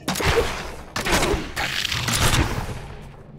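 Three sharp, punchy crossbow shots in Diablo 3 fire in quick succession, each with a short rumbling tail, loud and close with no talking.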